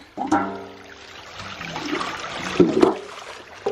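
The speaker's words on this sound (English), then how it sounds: "get water in my minnow bucket. Good running water right here. Just stick my bucket down in here" Running water gurgles and pours into a minnow bucket dipped into a stream, a close, fluctuating splashing and trickling with a couple of louder sloshes near the end.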